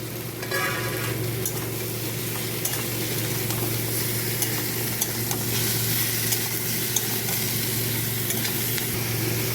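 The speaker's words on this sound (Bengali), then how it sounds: "এইটা ভালো করে এবারে ভাজবো, সঙ্গে সঙ্গে চিকেনটাও দিয়ে দেবো।" Papaya, carrot and potato fry with chicken in a pan, giving a loud, continuous sizzle with stirring scrapes throughout and no talking.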